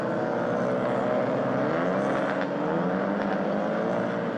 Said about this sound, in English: Very raspy little turbocharged engines, spinning up the front wheels and using all of the power out of the chicane.